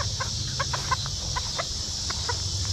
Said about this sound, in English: My dinosaur chicken almost flew out